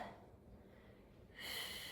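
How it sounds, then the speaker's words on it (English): A soft exhaled breath during an upper back rotation exercise, with a faint airy hiss that rises briefly toward the end, close and quiet. "I'm breathing out as I rotate up."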